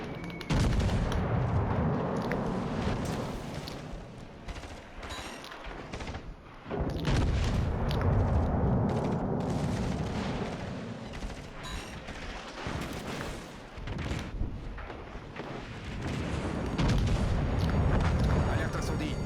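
Battleship turret guns firing in World of Warships, heavy booms and rumbling blasts recurring across a dense, loud battle soundscape, with continuous in-game effects and narration over the top.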